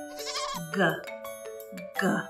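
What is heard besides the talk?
goat bleating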